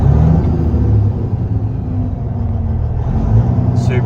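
2015 Peterbilt 389 glider truck with an overhauled engine, revving with a deep close rumbling roar that rises and falls in loudness across a few seconds.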